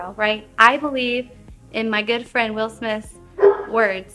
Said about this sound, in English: Okay, sorry about my dog.